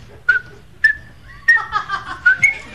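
Short whistled notes in broken, stop-start bursts, like a tune interrupted repeatedly, fairly close and clear with no talking.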